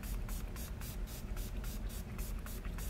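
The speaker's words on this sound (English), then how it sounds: "This is the Urban Decay B6 Vitamin Infused Spray." An Urban Decay B6 Vitamin Infused face spray mists in a run of quick, soft hissing bursts, close and faint over a steady background hum.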